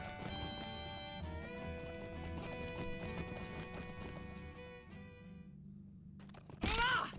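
A horse in The Lord of the Rings Online game, its hoofbeats and whinny playing over a steady bed of in-game music, ending in a loud, brief burst near the close.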